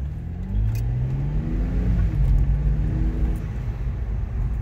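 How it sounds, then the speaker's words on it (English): A BMW engine with its exhaust cutout valve closed gets a brief blip of throttle, a low, muffled rumble rising and falling in pitch over a few seconds, fairly close and without talk. "The valve closed, just gonna hit the gas a little bit."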